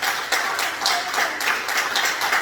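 A church congregation claps during a worship service after being urged to applaud the Father, Son and Holy Spirit, a steady, fairly loud patter of many hands with periodic bursts, no voices over it.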